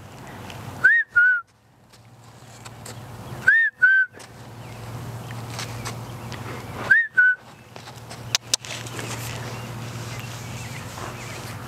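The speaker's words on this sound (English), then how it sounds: "That's the whistle cue." Sharp rising human whistle cues used in horse liberty training, three short two-note whistles spaced a few seconds apart over faint outdoor ambience, followed by a couple of soft thuds near the end.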